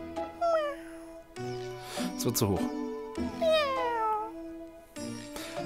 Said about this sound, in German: Das war eine weiße Katze.